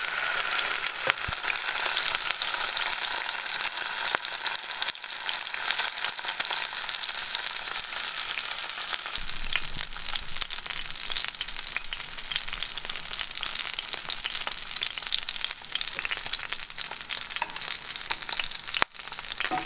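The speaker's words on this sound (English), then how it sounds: "I'm going to go ahead and put my steak in there." A NY strip steak searing in a hot pan with garlic gives a loud, steady, close sizzle that holds continuously for around twenty seconds, with a few faint knocks and shifts, no talking.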